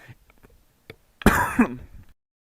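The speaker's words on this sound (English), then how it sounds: "I had a coughing spell just now" One short, harsh cough or throat-clearing from a man recovering from COVID bursts out close by after faint quiet noises, then trails off.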